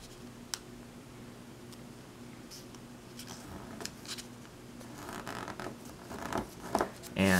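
Crisp crinkling and creasing of origami paper being folded, soft scratchy rustles with sharper snaps, growing louder and busier toward the end, close by.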